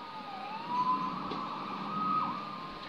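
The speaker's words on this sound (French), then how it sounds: "Sauvé par les sirènes." Emergency vehicle siren wailing at a moderate distance, its tone rising and falling steadily throughout, with no voices over it.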